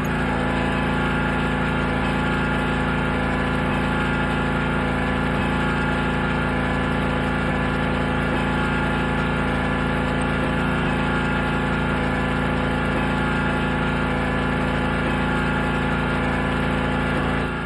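Karcher pressure washer running steadily while cleaning a building facade with a rotating wash brush, a constant loud motor drone with pump hum that holds unbroken throughout.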